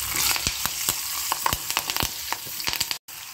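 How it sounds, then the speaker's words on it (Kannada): Green chillies and curry leaves sizzle in hot oil for a tempering, a close continuous frying hiss dotted with sharp pops and crackles, briefly cut off near the end. "ನೋಡಿ, ಚೆನ್ನಾಗಿ ಒಗ್ಗರಣೆ ಬೆಂದಿದೆ"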